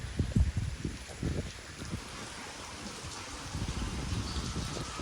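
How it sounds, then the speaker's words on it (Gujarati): Steady rain pours down in a village with gusting wind, a dense continuous hiss with heavier low rumbling patter early on, no voices. "પવન હુકાર્યું સાથે વરસાદ ચાલુ છે"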